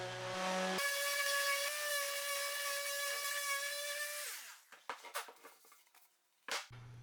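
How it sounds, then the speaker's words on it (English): A power sander works the edges of a wooden board for a back seat delete build, a steady loud whine with strong tonal hum lasting about four seconds before winding down into a few scattered knocks and clatters. "I'll take a sander just to go ahead and clean up the edges and make it as smooth as possible"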